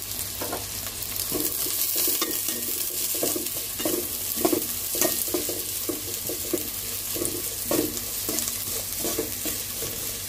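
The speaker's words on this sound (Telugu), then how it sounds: "పచ్చిమిర్చి వేసుకుందాం. ఇది కొంచెం ఫ్రై చేసేసుకోవాలి." Green chillies and onion frying in a pan for egg biryani, with a steady sizzle under repeated scraping stirs of a spatula, close and continuous with no talking.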